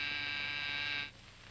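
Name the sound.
buzzer sounding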